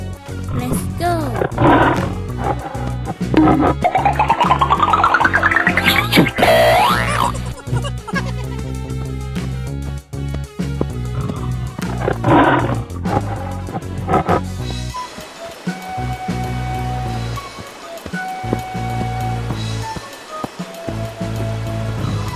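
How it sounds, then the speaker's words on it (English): A tiger roars loudly as part of an animal guessing game, in several heavy, rumbling bursts over busy layered sound, before giving way to a quieter washing, surf-like stretch. "Tiger."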